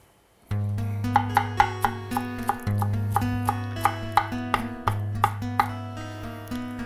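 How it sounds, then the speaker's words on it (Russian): A knife chops fresh cilantro on a board in a steady series of close, crisp taps over a loud low hum. "То, что я сейчас режу, в России называют кинза."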